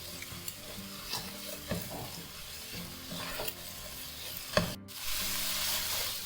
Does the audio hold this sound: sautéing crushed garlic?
yes